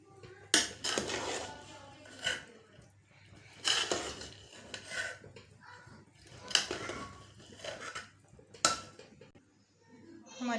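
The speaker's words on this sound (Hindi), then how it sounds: "अभी हम इसको अच्छी तरह मिक्स कर लेंगे।" Chicken biryani being mixed in a pot, with several separate scraping, clattering strokes of a spoon against the vessel, spaced a couple of seconds apart, fairly close and moderate in loudness.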